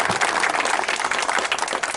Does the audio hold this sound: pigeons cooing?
no